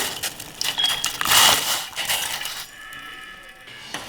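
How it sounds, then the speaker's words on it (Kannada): Hard little field beans clatter and rattle into a pot of salted boiling water, a burst of clinking around the middle, then a steady bubbling hiss of boiling water. "ಈ ರೀತಿ ನೀರು ಕುದಿಯುವಾಗ ಅವರೆಕಾಳು ಹಾಕೊಳ್ಳೋಣ."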